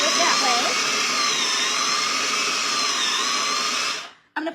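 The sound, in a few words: food chopper grinding on power mode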